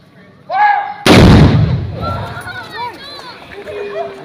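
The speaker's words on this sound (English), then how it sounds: "we're going to fire off the round. So please, ladies and gentlemen, cover your ears for the first round" A Victorian artillery gun fires a single round at a fort garrison demonstration, one sharp, very loud boom with a long rolling decay, with talking just before it and crowd voices and chatter afterward.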